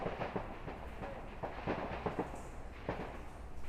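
A rapid run of sharp gunshots, a dozen or so cracks in quick irregular succession over a dense, rumbling background.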